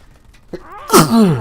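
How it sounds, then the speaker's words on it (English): A single loud sneeze up close, with a short breathy wind-up before the burst. "I'm about to sneeze again too"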